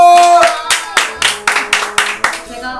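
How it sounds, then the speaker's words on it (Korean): Eight or nine sharp, evenly spaced hand claps from a small group greeting a newly introduced assistant, close and crisp with a brief ring after each one, no talk over them. "박수!"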